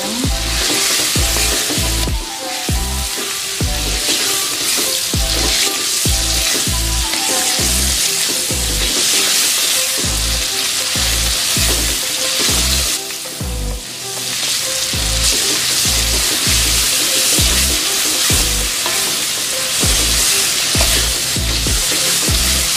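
Chopped onion for lumpia basah fries in a pan with a loud, continuous close sizzle, broken throughout by rhythmic stirring scrapes and clatters.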